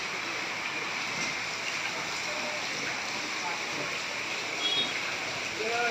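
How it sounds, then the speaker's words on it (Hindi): Heavy rain pouring outdoors on Eid al-Adha, falling onto a staircase with a steady, dense hiss of water that stays loud and constant throughout, with no pauses. "सीढ़ी पर भी देखिए कितनी तेज़ बारिश है।"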